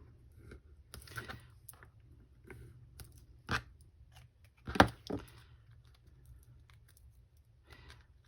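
Scissors snip through a paper card element for a star shaker card, giving soft, scattered cuts and rustles with a couple of sharper, louder snips, close and quiet, with no talk.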